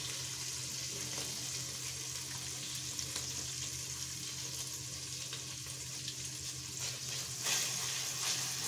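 Kerala-style fish curry with tamarind paste cooking and being stirred on a low flame, a steady gentle sizzle and bubbling with faint stirring, no voices.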